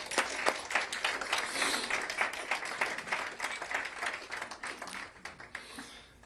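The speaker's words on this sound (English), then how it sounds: "Yeah, please clap, brother." An audience at an exhibition event for the Nova music festival applauds, a sustained round of dense clapping from many hands that thins and fades toward the end.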